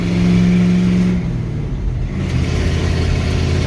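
Small engine running after its choke is shut off, a loud steady mid-pitched drone that settles and slightly rises again, close by with no talk.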